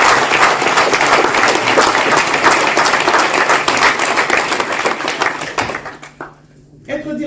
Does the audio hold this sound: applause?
yes